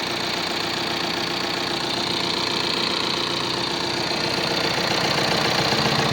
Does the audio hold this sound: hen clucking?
no